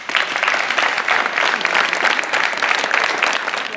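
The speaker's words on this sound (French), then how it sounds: "je voudrais qu'on applaudisse très fort Fabienne Bonnefoy" A crowd at a regional women's sports finals ceremony gives a steady, dense round of applause that is loud and sustained throughout, with no talking over it.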